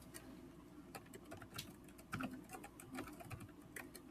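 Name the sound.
typing a password on a computer keyboard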